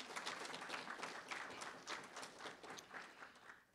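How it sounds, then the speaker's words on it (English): Applause from an audience at a campus coffee house event honoring its coffee sponsors, a faint, steady patter of many hands clapping with no talk over it. "So let's give them a round of applause as well."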